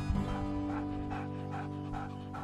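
A dog out on a spring hike pants in quick, rhythmic breaths close by, steady and unbroken over a low background hum.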